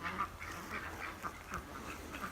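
A Pekin duck quacks near a chicken pen in a quick run of about eight short, raspy calls, steady and evenly paced, fairly faint against a low background hum.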